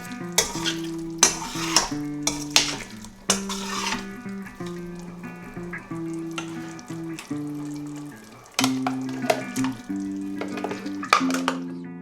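Blended onion and yogurt paste sizzles steadily in a pan for chicken qorma, with repeated scraping and stirring clatters of a utensil against the pan over the continuous frying hiss.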